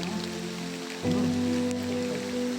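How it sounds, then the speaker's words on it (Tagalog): Steady rain patters on a surface, a soft continuous hiss with a low background hum. "mababasa tayo ng ulan"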